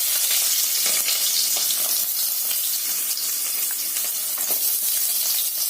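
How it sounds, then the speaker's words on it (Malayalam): Onion sautéing in hot oil for a chilli cauliflower dish, a steady loud sizzle and crackle filling the whole stretch with faint scraping of stirring beneath. "എല്ലാം ഇട്ട് വഴറ്റുന്നു."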